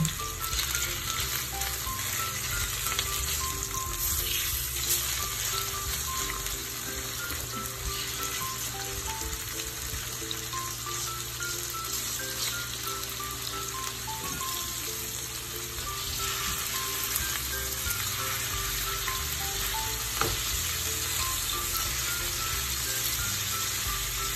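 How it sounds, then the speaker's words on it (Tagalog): A chicken breast fillet pan-fries until golden brown, giving a steady, close, even sizzle with fine crackling that runs unbroken the whole time, with no talking over it. "i-pan-fry lang natin yung chicken breast fillet natin until mag-turn siya ng golden brown"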